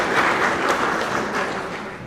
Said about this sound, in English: I think he deserves a clap for that very good presentation